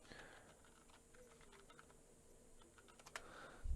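Light tapping on a computer keyboard in an otherwise quiet room, soft irregular keystrokes continuing throughout with a slightly louder cluster near the end.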